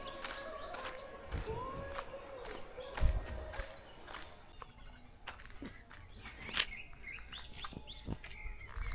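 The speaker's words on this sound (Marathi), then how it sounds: "पक्ष्यांचा आवाज" Birds calling on an evening walk through a village, bright chirps and a sustained high trill over the crunch of footsteps, with scattered knocks and a light background hum.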